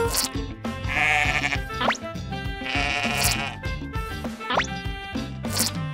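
Several sheep bleat in rising, wavering calls over a busy backdrop of music and cartoon sound effects, the bleats repeating at a steady pace and sounding close.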